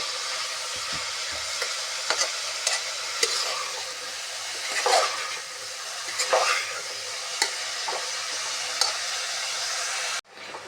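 Grated carrots for halwa are stirred and fried in ghee, giving a steady close sizzle with scraping spoon strokes throughout, ending abruptly.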